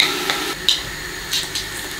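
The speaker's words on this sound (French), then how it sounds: "On va verser notre oignon haché" Chopped onion hits hot oil in a stewpot for a kangaroo civet, giving a short, steady hiss with a few brief clinks and bursts of crackle.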